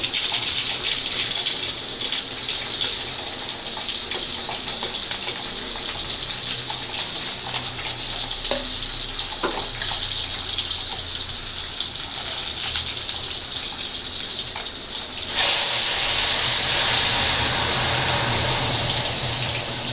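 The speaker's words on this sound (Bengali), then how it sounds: "তো আমি এখন কড়াই বসাই দিলাম ডালটা সম্বাদ দেওয়ার জন্য" Dry red chilies and mustard seeds fry in hot oil in a wok to temper a sour mango dal. A steady hiss runs throughout, then jumps abruptly into a much louder, brighter sizzle partway through, with no talking.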